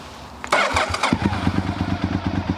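A Honda VTR1000 SP1 sport bike with a V2 engine and aftermarket exhaust cranks and fires up close by, then settles into a deep, lumpy, rhythmic idle.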